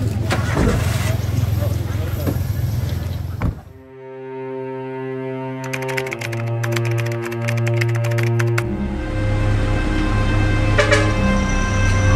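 A car engine starting up: a loud cranking and running rumble gives way to a sustained steady engine tone with a rising whine and rapid ticking, then a broader running roar; nearby background noise throughout, no clear speech.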